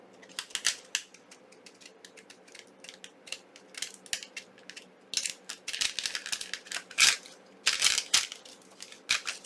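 Scissors cut paper hearts for a junk journal, making irregular close snips and crisp rustles in quick bursts, with gaps in between and a quiet room behind them.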